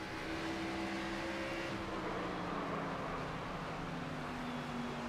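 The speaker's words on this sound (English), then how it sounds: "You like the sound that happens when we're out the throttle." A race truck engine in a racing video game drones and then falls in pitch as it comes off the throttle, a steady, moderately quiet whine with no talk over it.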